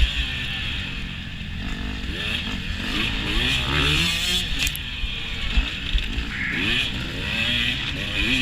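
Four-stroke dirt bike engine racing past at a hare scramble, with other motorcycle engines revving and rising in pitch over a continuous loud drone, close by throughout.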